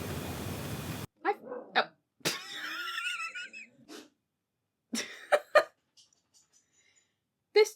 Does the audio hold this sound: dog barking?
yes